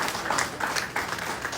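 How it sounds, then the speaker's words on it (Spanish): A church congregation at a Spanish-language worship service claps together in a brief, dense burst of overlapping hand claps that pulses a few times, close and moderately loud, with no talking. "Denle un aplauso al Señor."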